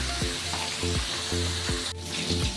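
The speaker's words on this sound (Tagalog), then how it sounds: "patapos na yung ating piniprito" Spare ribs for humba fry in a pan with a continuous close sizzle, broken by a repeating series of short, squeaky tonal chirps roughly every half second.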